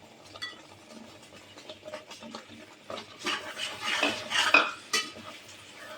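A spoon scrapes and stirs chopped cashews and almonds into a methi ladu mixture in a pan, with soft clinks against the metal that grow louder and busier in the second half.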